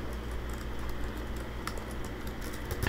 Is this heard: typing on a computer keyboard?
yes